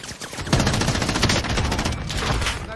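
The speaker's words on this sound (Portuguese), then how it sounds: "Estão atirando em mim aqui, Rafa, peraí." Sustained rapid automatic gunfire in the video game Call of Duty Modern Warfare, a loud, close, continuous volley of shots lasting nearly three seconds with no talk over it.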